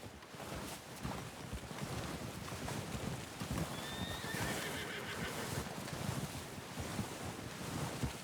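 A horse whinnies from a saddled mount in Red Dead Redemption 2, a high neigh rising briefly in the middle over steady outdoor wind and surf-like ambience, with soft hoof clops nearby.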